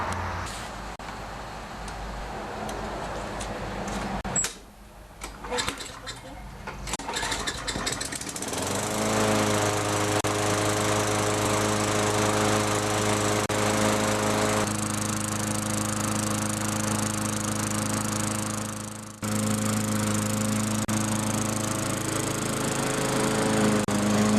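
A Craftsman lawnmower engine with a newly fitted ignition module is pulled to start. After a few seconds of cranking it catches and runs at a loud, steady drone, with a brief dip near the end, and no one speaks.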